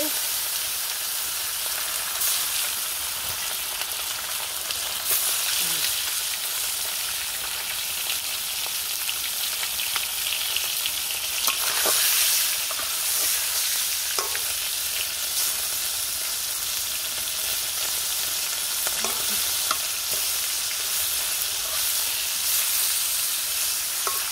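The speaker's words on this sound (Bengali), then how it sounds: "এই যে মাছগুলো মাখাচ্ছি মাখা হয়ে গেছে এই তো দিয়ে দিলাম তরকারি ভাজতে।" Marinated fish frying in hot oil for a curry, a continuous loud sizzle and hiss with occasional sharp pops and crackles as the pieces cook, close to the pan and with no talk over it.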